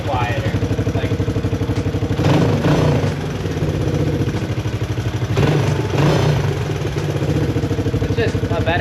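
A Honda motorcycle exhaust idles loudly up close, its note briefly muffling and changing as the outlet is partly covered by hand, with someone talking over it.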